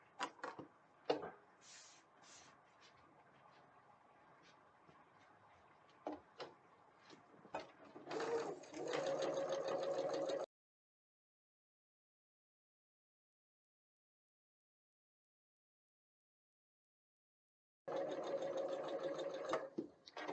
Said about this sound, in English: we're going to go ahead and just sew this on